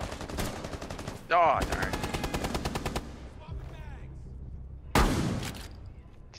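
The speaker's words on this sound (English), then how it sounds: "Guy's shooting at me." Rapid automatic gunfire bursts from the tactical shooter Rainbow Six Siege, loud and close, with a sharp single shot near the end and a player's brief remark in between.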